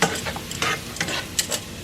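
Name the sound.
sauteing beef and noodles ingredients in a pan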